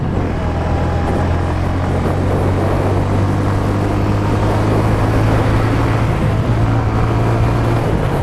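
A motorbike engine and exhaust on a ride along empty night streets in Old Dhaka, a loud, steady droning roar with slight pitch shifts as the throttle changes, close by and without speech.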